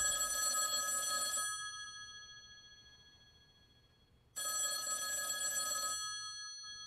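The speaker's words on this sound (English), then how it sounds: "that phone over there is gonna ring." An old-style telephone bell rings in two loud, bright bursts of about a second and a half each, separated by a quiet pause, in an otherwise hushed indoor scene.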